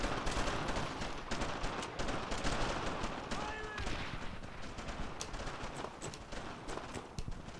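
Dense, continuous gunfire with rapid overlapping shots fills a World War II squad battle in the video game Brothers in Arms: Earned in Blood, loud and unbroken throughout, with voices mixed into the combat.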